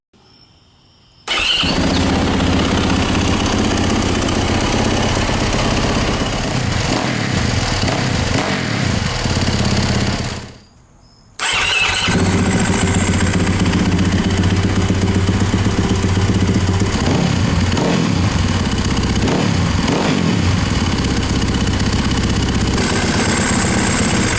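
A motorcycle engine fitted with a new exhaust with a spark arrestor runs loud and close, a steady throaty rumble that cuts out briefly midway before starting again and continuing strongly.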